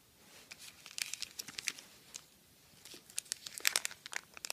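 Close, quiet crinkling and tearing of a Yu-Gi-Oh Zexal trading card pack wrapper as it is opened, a series of irregular crisp crackles and rips.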